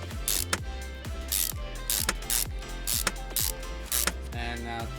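Ratchet tightening an intake manifold in Car Mechanic Simulator 2021, a loud, close run of repeated clicking turns in quick, even bursts with sharp thunks between them and no voices.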